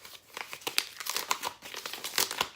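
Paper envelope crinkled and torn open up close, a quick run of crisp rustles and crackles with short bright peaks, quiet and without any voice.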